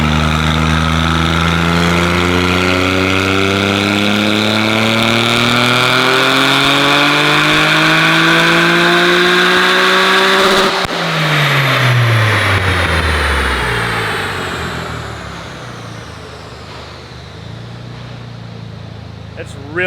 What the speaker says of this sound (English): By far one of the loudest cars I've ever heard or had